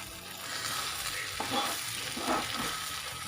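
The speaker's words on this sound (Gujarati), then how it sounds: "મીઠું નાખીને આપણે પાછું હલાવી લઈશું" Sabudana khichdi being stirred in a pan after salt goes in, with a quiet, continuous frying hiss and a few soft scraping strokes of the spoon and no talking.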